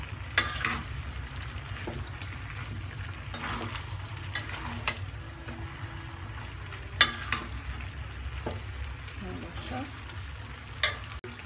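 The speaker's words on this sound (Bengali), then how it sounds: "আমি এটা 5 মিনিট নাড়াচাড়া করছি" Cow tripe and potato curry is stirred in a pan: a soft continuous sizzle, with periodic scraping strokes and light clinks of the spoon against the pan.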